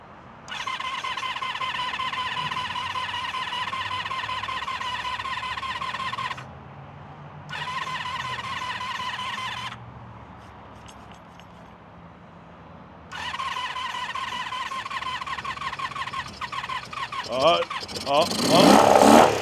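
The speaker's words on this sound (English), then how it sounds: "Give her a crank, see if she fires up" An old Honda motorcycle, left abandoned for 22 years, cranks with the choke partly on: a loud whirring starter runs in three bursts with pauses, then the engine catches and sputters unevenly near the end.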